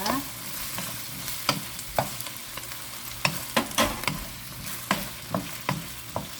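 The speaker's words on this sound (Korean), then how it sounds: "처음에 양파와 가지를 넣어서 볶다가 간장 2스푼, 굴소스 1스푼, 중불로 줄여주십니다" Onion and eggplant stir-fried in a pan, a soft continuous sizzle punctuated by regular taps and scrapes of a utensil against the pan, close and fairly quiet with no talking.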